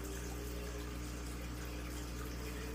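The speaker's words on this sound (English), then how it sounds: "we're going to start pouring it up here." Cappuccino oatmeal stout beer pours into a glass in a steady, continuous gush of liquid, close and fairly loud, with no talking over it.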